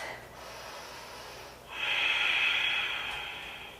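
A deep inhaled breath taken during a yoga side angle pose, a soft airy rush that swells and grows louder over about two seconds, close and alone with no talking.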